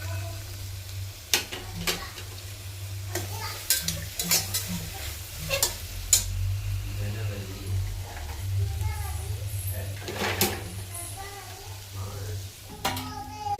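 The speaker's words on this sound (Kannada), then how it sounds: "ಚೆನ್ನಾಗಿ ಫ್ರೈ ಮಾಡ್ಕೋಬೇಕು." Vegetable biryani masala with tomato, water and vegetables frying in a pan, with a steady sizzle and repeated scraping stirs, while someone talks over it and a voice is heard.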